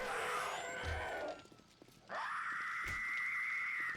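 A screamer zombie in the video game 7 Days To Die lets out a long, high wailing scream that fades, breaks off into a brief near-silence, then starts again as a sustained piercing shriek.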